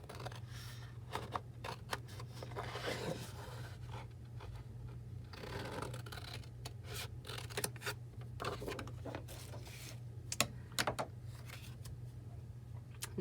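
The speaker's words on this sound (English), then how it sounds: "we're going to take our scissors and we're going to cut out our rectangle" Scissors snip through a sheet of paper to cut out a rectangle, making a series of sharp, close crisp cuts at an irregular pace with faint paper rustling between them and a low steady hum underneath.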